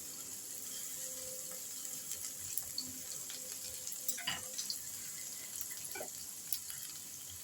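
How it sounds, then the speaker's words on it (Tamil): Mustard seeds splutter in hot oil, a faint, low crackle dotted with scattered small pops and a few louder spits over a quiet kitchen background. "கடுகு வெடிச்சிருச்சு"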